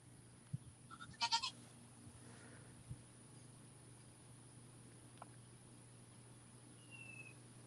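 Goats bleat in a pen outdoors: a brief cluster of faint, distant bleats early on, then quiet farmyard ambience with a steady low hum and occasional small knocks.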